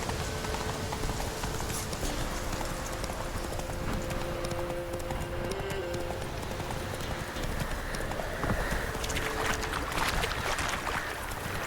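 A horse's hooves clop at a steady trot in The Witcher 3, a continuous rhythmic beat under ambient game sound.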